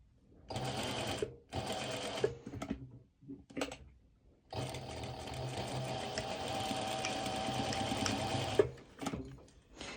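A sewing machine stitches fabric binding on pole dance wear bottoms, running in two short bursts, a quick tap, then one long steady run of about four seconds and a final brief stitch, close and alone.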